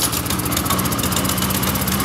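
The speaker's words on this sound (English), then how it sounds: "So the boss's mower is really sick." A failing Toro lawn mower engine runs rough and close by, giving off a steady, loud, buzzing drone with a low throb throughout and no speech over it.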